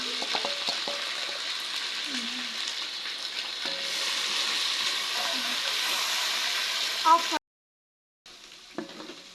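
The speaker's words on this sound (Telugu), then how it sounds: "యాడ్ చేసుకొని బాగా ఫ్రై అవ్వాలి మసాలా." Masala for chicken biryani frying in a pan, a loud continuous sizzle with spoon scrapes, close by, briefly cutting to silence before resuming, with faint voices in the background.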